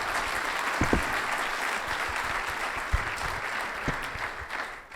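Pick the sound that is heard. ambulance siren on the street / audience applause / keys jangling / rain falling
audience applause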